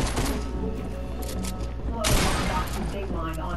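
A burst of gunfire in Fortnite, rapid overlapping shots and booming impacts loud and close, with a heavier surge of blasts partway through over continuous game noise.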